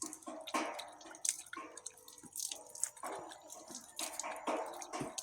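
Water drips and splashes in uneven bursts as someone bathes outdoors in rural Laos, close and fairly loud, with scattered pours and patters and no talking.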